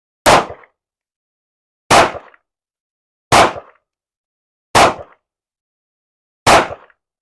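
Five sharp handgun shots from a Glock and a Smith & Wesson M&P 2.0 ring out at a shooting range, evenly spaced about a second and a half apart, each a loud crack with a short decaying tail and silence between.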